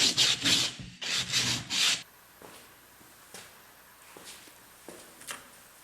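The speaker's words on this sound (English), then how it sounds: "just take off any rough edges with a piece of sandpaper" A rough-edged wooden board rubbed with a piece of sandpaper, three or four loud, close rasping strokes in quick succession, then quieter scattered scrapes and light knocks.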